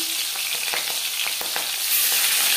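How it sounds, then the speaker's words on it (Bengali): Fish frying in four spoons of hot refined oil for a potato fish curry, giving a steady loud sizzle with sharp crackling pops scattered throughout and no talking. "4 চামচ রিফাইন্ড অয়েল গরম করে নেওয়ার পর দিয়ে দেব মাছ"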